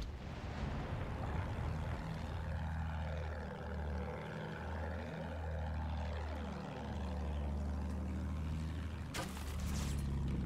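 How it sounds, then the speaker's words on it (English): Fighter plane in Battlefield 1, a propeller drone with engine pitch sweeping up and down as it passes twice over a steady low rumble, loud and continuous. "Plane, fighter."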